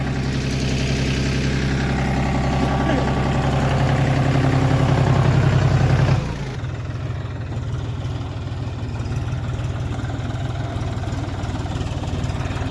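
A John Deere tractor engine idles nearby, a steady low throbbing rumble that drops abruptly to a quieter, rougher idle about halfway through.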